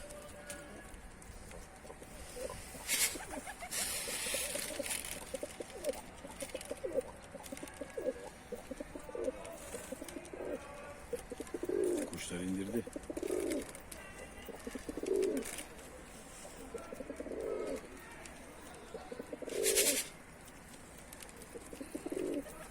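Pigeons coo outdoors on a hot sunny day, repeating soft low calls at a moderate distance over steady background hiss, with a few brief louder bursts.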